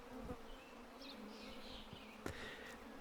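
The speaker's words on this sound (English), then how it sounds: "the mosquito pond" Mosquitoes whine and buzz around a swamp pond in the fantasy survival game Card Survival Fantasy Forest, a thin insect drone with a few louder passes close by over a steady background hum.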